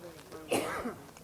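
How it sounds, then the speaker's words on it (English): A single short cough or throat-clear bursts out close to the microphone, brief and fairly quiet against a soft background. "Just coughing on my camera"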